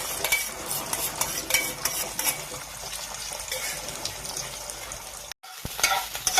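Egg bhujia frying in hot oil in a pan, with a steady loud sizzle and stirring clinks of a utensil against the pan, briefly cutting out near the end before resuming.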